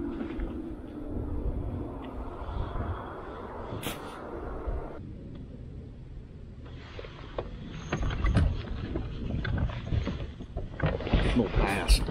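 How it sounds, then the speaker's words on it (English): A boat passes on the water while crappie fishing in early winter, a low rumbling wash rising and falling amid steady wind noise, with occasional knocks close by. "Here comes a boat."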